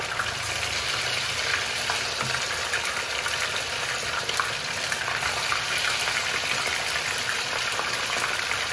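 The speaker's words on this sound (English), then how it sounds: "So the oil is very hot. So put it inside the oil and fry it until it becomes crispy." Batter-coated paneer fries in very hot oil, giving a dense, steady, close sizzle that hisses without a break.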